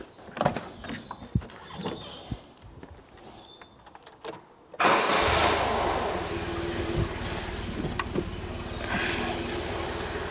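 A hydropneumatic Citroën on a ramp gives off scattered mechanical clicks and whirs, then a louder, steady running drone sets in abruptly and holds fairly close by.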